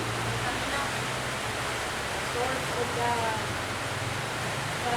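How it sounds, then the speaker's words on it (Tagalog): Heavy rain pours down in a steady, dense broadband roar, loud and continuous through the whole stretch, with faint voices mixed in beneath it. "Lakas na yung ulan."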